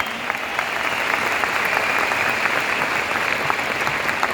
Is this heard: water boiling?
no